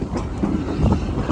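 A heritage steam train on the Gwili Railway rumbles along steadily, heard close from aboard with a low, continuous rolling noise and some wind.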